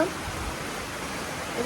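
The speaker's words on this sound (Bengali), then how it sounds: "আর বাইরে হচ্ছে প্রচণ্ড বৃষ্টির আওয়াজ" Heavy rain falls outside as a constant broadband wash, with a voice speaking over it for the short stretch.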